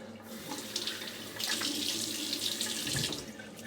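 Tap water runs steadily into a sink to rinse a razor blade, a continuous splashing stream that swells louder midway and stays close, with no talking.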